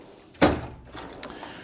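A drawer in a large mechanic's tool chest slides with a quick rolling rush and thuds to a stop, followed by faint rattles of tools inside.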